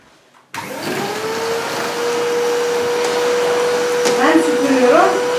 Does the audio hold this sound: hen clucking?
no